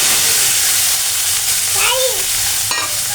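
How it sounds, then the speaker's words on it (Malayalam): Chopped tomatoes and green chillies frying in hot oil with mustard seeds, a loud, steady sizzle and hiss with a brief stirring scrape near the end. "ഇപ്പം നമ്മൾ തക്കാളിക്ക ഇങ്ങനെ ഒന്ന് നല്ലോണം വഴറ്റി മൂപ്പിക്കണം."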